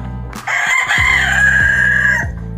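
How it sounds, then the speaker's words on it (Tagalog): Chickens with newly hatched chicks of the Lemon Sweater bloodline, heard as a rooster-like crow or loud clucking held steady for about two seconds, close and loud, with no talking. "So ito na yung ating mga sisiw."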